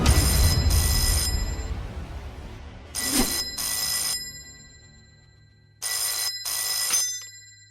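A telephone bell rings in three double bursts, separated by short pauses, in a quiet indoor scene from a Tamil television serial.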